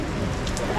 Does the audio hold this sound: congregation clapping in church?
no